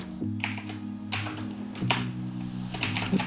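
Keys clack on a computer keyboard while JavaScript code is typed: a few sharp clicks spaced out over a steady low electronic hum, moderately close, with no voices.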